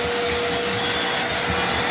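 A vacuum cleaner runs steadily and loudly up close, cleaning a surface of dust before waterproofing is applied, a constant whooshing drone throughout.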